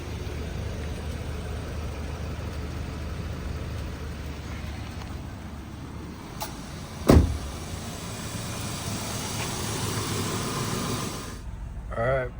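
Subaru Forester fitted with a swapped EJ25 engine on its first test drive, a steady low road rumble and cabin hum throughout, with one sharp thud near the middle and a brief whirr near the end.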